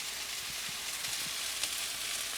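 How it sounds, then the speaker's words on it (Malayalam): Mustard seeds spluttering in hot oil for a potato and fenugreek thoran, a faint steady sizzle broken by a few soft pops. "ഇത് ഇവിടെ കടുക് പൊട്ടിച്ച്"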